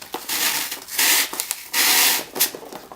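Close rasping strokes of tag board cutting into a soft foam block, several quick back-and-forth scrapes with short pauses between them.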